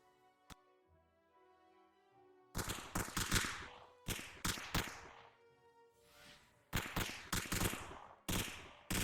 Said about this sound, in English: Several bullets went through Outbreak, but he's still alive